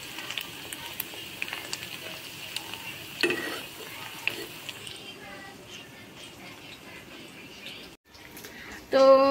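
Pakoras fry in hot oil in a pan and are stirred now and then, a steady soft sizzle with light scraping and faint bird chirps in the background.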